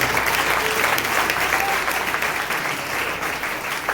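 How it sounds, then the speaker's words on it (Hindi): Loud, sustained applause from a church congregation during a Sunday sermon, steady clapping throughout with a faint voice or two mixed in. "जोरदार ताली"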